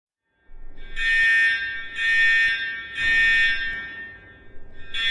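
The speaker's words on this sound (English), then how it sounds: "the fire alarm has been pulled." Fire alarm sounding after being pulled, loud electronic ringing in repeated bursts of roughly a second each with short gaps, starting abruptly from silence, close and without speech.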